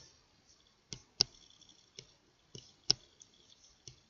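Sparse, separate clicks and taps on a computer keyboard as someone types into a browser, each key near and crisp against near silence, spaced irregularly with no voices.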